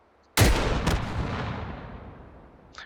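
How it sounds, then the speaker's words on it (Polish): A single sudden video game explosion booms loudly, then a long rumbling tail fades away over a couple of seconds, ending with a small faint click. "Mały wybuch był, nawet nie trzeba pokazywać"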